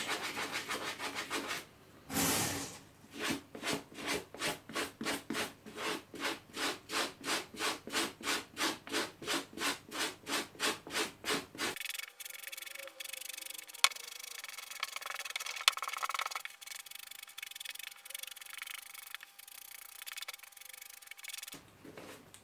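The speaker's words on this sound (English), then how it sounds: "I'll use the other side of the brush, the one that's got the nylon and wire bristles in there, to see if I can remove those" Suede shoes being brushed with a nylon and wire bristle brush to lift bobbles, a rapid series of close, rhythmic scratchy back-and-forth strokes, then quieter scattered rubbing and scraping.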